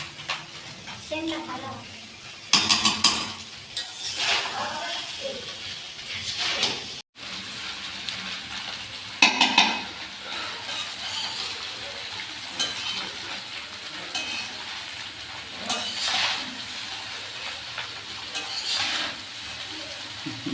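Cashews and raisins sizzle in hot ghee as a spoon stirs and clinks against the pan. The frying stays steady, with sharper scrapes now and then, while someone talks over it.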